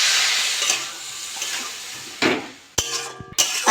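Coconut, sugar and water cooking in a wok over a gas flame: a close, steady sizzle with a few sharp metallic scrapes and knocks of a stirring utensil against the wok near the end.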